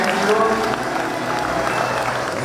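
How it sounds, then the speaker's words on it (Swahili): A congregation applauds at a Sunday wedding service in an ACK church in Kanunga, Kiambu: dense, continuous clapping blended with crowd voices, loud and close throughout. "Makofi."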